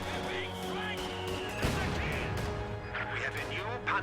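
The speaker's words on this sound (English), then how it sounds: "a mortar, I think a mortar wiped a rifle squad" Battle sounds from Company of Heroes, a World War II strategy game: a dense bed of gunfire with a heavy mortar-like blast near the middle and scattered shots afterward, continuous and moderately loud, with a voice talking over it.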